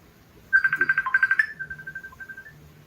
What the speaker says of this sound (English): He's got a phone call.